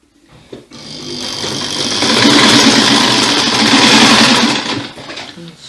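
Sewing machine stitching a skirt lining, starting up, running steadily at speed for a few seconds, then slowing to a stop, close and fairly loud with no talking.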